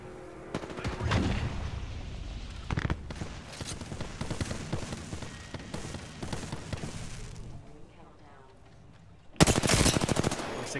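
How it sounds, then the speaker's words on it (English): Automatic gunfire in a video game comes at the player in rapid bursts of clattering shots that run for most of the stretch, then a sudden louder close-range volley erupts near the end. "Being shot at."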